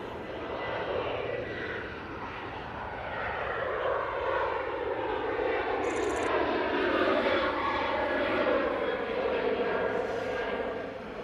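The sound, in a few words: airplane at Manchester Airport, flight to Barcelona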